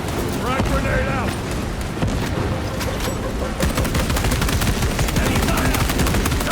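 Heavy, continuous gunfire from Warhammer 40K: Space Marine 2, with dense overlapping bursts and booms filling the whole stretch, loud and close, becoming even more rapid and rattling in the second half.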